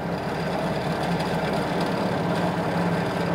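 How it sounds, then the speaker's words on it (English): A Vespa/Piaggio 300 scooter engine idles and is given a couple of low revs, a steady, close, rumbling drone at constant loudness with no talk. "I'll give it a couple low revs."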